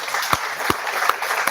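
An audience claps in slow, distinct, evenly spaced beats, about four loud hand claps in a row over a crowd hush.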